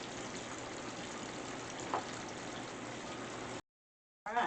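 Dense, even hiss of battered chicken-fried pork chops searing in very hot grease, close and steady for several seconds, then a brief silence before a short burst of noise returns.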